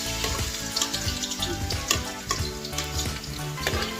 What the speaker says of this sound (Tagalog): Kaya mainit na yan mantika mga idol. Lalagay na natin itong bawang.